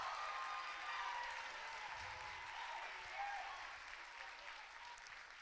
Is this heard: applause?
yes